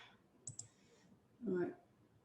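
A couple of quick, faint computer mouse clicks while working in Quartus Prime design software, followed by a short burst of voice.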